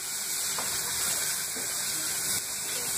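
Chopped onion sizzles in olive oil in a cooking pot, giving a steady, close hiss of frying throughout with faint crackles and no talking.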